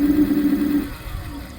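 Electric motor of a HOVSCO Proto Max sit-down scooter under throttle, a close, steady low hum for under a second before it fades to quiet.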